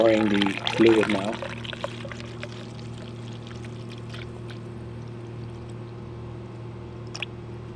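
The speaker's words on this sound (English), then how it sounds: "So I'm pouring the fluid now." Coolant poured into a Toyota Prius radiator reservoir while the system is bled, a gurgling splash up front that settles into a faint trickle over a steady hum, with sparse small clicks later.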